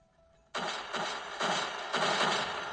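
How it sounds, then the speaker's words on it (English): Four heavy video game explosion blasts in quick succession, each a loud burst of noise, rising in force, with no voices. "Look at those explosions."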